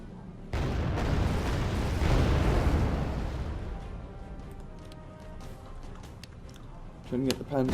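SU-7 jets make repeated bombing runs in Wargame AirLand Battle, with a heavy rumbling blast swelling and slowly fading, followed by scattered smaller pops and crackles near the end.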